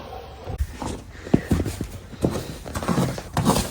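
A horse's hooves clip-clop on hard ground at a competition yard, irregular close steps with some shuffling and light thuds.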